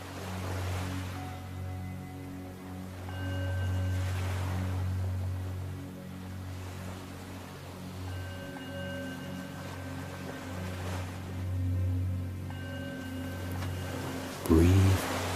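Calm ocean waves wash in and recede in slow, regular swells, with a low steady rumble underneath and a soft background music drone; no one speaks.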